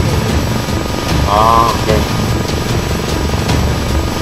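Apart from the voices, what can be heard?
helicopter in video game Arma 3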